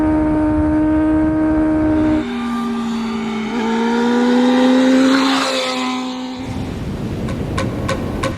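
Motorbike ridden along the beach at Farewell Spit, its engine droning steadily with shifting pitch as it accelerates and settles, loud and close, with no talk over it.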